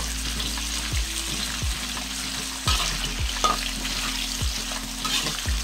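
Hot vegetable oil sizzles and crackles steadily in a pan while ginger is prepared for Hainanese chicken rice, loud and close, with light scraping or stirring knocks every second or so and no talk.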